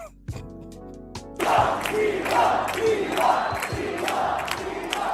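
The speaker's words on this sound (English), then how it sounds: "These people are literally cheering for their own theft." A crowd at Trump's Davos speech breaks in after a brief tonal sound with loud, rhythmic, chant-like cheering that pulses in regular waves until the end.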